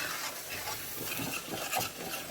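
Vegetable korma sauce simmers in a pan with a quiet, even bubbling and hissing, steady throughout, with no talking.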